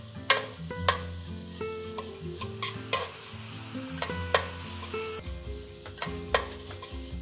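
Green chillies sautéing in a pan for horse gram pulao, with a steady soft sizzle and repeated spoon scrapes and clinks against the pan in an uneven rhythm, close by and with no talking.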